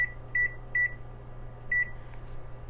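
An oven timer goes off while butternut squash soup is cooking, sounding three short, evenly spaced electronic beeps, then a pause and a fourth beep over a low appliance hum.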